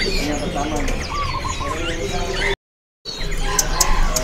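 Many caged songbirds chirp and whistle at once in a busy Pramuka bird market stall, including Sumatran mountain birds, a dense close chorus broken by a brief gap of silence.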